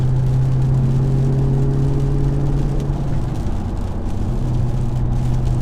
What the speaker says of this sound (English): The one thing you do notice is that even with the exhaust in its off position, it's still quite boomy in here.